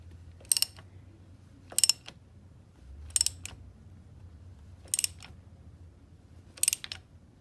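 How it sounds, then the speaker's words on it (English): A wrench ratchets as a part is tightened on a ruckus scooter, five short sharp metallic clicking bursts spaced about a second and a half apart over a low steady hum, close and fairly loud. "Let's go ahead and get the wrench for this."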